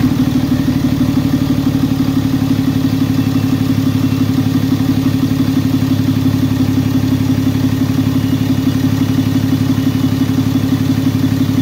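A 6.7L Cummins diesel engine idles steadily after a valve adjustment, a loud, close, even clatter and rumble that runs without a break and with no talk over it.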